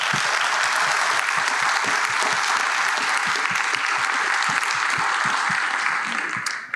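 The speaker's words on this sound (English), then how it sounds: "Please give a round of applause to our panelists" A conference summit audience applauds panelists with sustained, dense clapping that holds steady for several seconds, then thins out at the very end.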